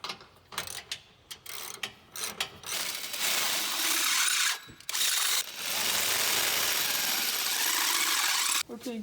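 A ratchet or power tool tightens a bolt during a Jeep EcoDiesel suspension lift install, with clicking and ratcheting at first, then longer steady mechanical whirring runs, loud and close, with a brief break in the middle.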